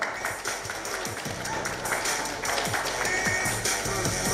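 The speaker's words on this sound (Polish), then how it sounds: "Oczywiście wielkie brawa dla zawodników." Applause from the crowd for fighters at an MMA weigh-in ahead of the Silesian MMA 19 gala, steady clapping at moderate distance under a loud, reverberant hall ambience.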